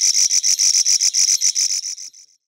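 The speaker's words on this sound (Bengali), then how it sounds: "ছড়ার ধারে, গাছের ডালে কিংবা পাতায় ঘ্যাঙর ঘ্যাং শব্দে মিছিল করে উভচর প্রাণীরা" Amphibians croaking at night beside a stream or among tree branches and leaves in Satchari National Park: a rapid, evenly spaced series of about fifteen bright, close calls that fade out toward the end.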